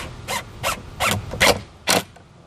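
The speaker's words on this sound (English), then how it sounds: "what I want to do is go ahead and shoot some screws in while keeping it lined up with my lines" A power screwdriver drives screws into a wooden farmstyle shelf in five short, whirring, creaky bursts, each a fraction of a second, with brief pauses between them.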